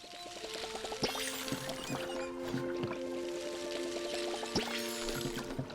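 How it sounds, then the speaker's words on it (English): Gentle pouring of water in the video game Palia, a soft continuous liquid wash layered under bright, plucked game music with a couple of splashy accents. "just give you a little water"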